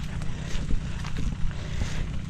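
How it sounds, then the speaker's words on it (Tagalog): A new motorized power sprayer runs outdoors near a calamansi tree, a steady, loud, close engine drone with slight pulsing throughout and no talk over it. "testing na yung bagong power spray"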